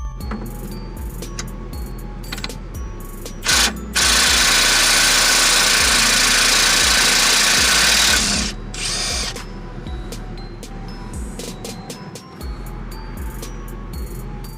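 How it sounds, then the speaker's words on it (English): A power tool spins a 13mm socket on a Jeep Grand Cherokee's spring retainer bolts during a suspension lift, with a ratcheting clatter around a sustained loud whir lasting several seconds, then more ratchet clicks. "I'm using a 13mm socket for removal."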